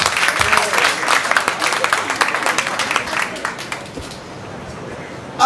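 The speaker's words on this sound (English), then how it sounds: "Let's give him a warm applause." Loud applause from a large crowd, dense clapping that holds steady for several seconds before thinning out near the end.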